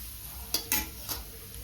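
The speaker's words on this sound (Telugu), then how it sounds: "జీడిపప్పులతో పాటు లైట్ బ్రౌన్ కలర్ వచ్చిన దాకా వేయించుకోవాలి సెగ సిమ్లో పెట్టి వేయించుకోవాలి" Cashews and grated coconut frying on low heat in a pan for palak rice, with a faint steady sizzle and three short stirring scrapes, nearby and alone.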